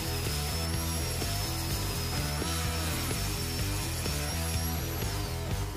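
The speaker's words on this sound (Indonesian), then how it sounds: "saya akan potong terlebih dahulu untuk meratakannya" A power tool cuts a metal axle to level it while a classic European-style door latch is being built. A steady, loud, close grinding whine holds throughout, with rapid regular pulsing underneath and no talk.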